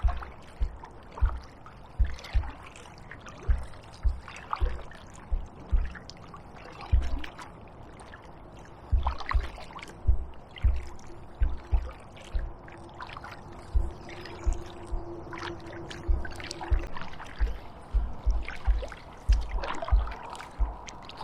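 Rhythmic paddle strokes from an AquaTec Ottawa Pro kayak on a moderate river outing, with regular splashes and dribbling water close by, repeating every second or so, with no talking.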